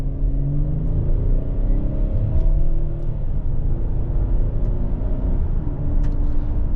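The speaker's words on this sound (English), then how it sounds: "Back on the accelerator." 2023 Hyundai Palisade Limited accelerating, heard as a steady low engine and road rumble from inside the cabin. The pitch rises gently as the SUV gains speed, with faint rattles and clicks and no talking.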